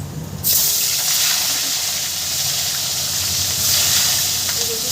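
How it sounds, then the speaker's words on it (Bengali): Fish pieces sizzle in hot oil in a home kitchen pan, a steady loud hiss running the whole way with a brief quieter start. "ওই তেলে আমি আর দু পিস মাছ আছে সেটা আমি সুন্দর করে ভেজে নেব"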